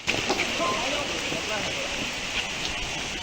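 Rain falling outdoors makes a steady, dense patter and hiss with a few sharper drops, fairly close, and indistinct voices sit faintly beneath it.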